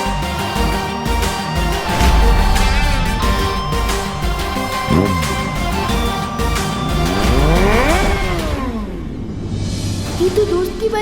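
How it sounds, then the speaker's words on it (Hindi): Motorbike engine heard within a Hindi television drama scene, loud revving and shifting engine tones sweeping up and down alongside music and effects for about eleven seconds. "ये तो दोस्त की बाइक की ही आवाज है।"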